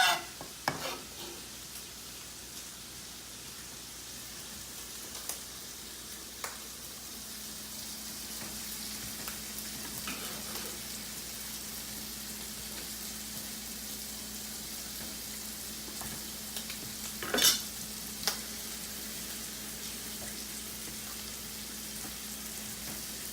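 Chopped shallot and garlic sizzling in a pan for spaghetti sauce, a continuous close frying hiss broken by occasional scrapes and knocks of stirring, with no voices.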